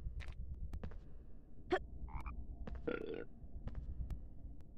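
Chocolate frogs croaking in the Harry Potter Philosopher's Stone PS1 game, several short croaks and burp-like calls scattered over a quiet background hum, with brief clicks between them.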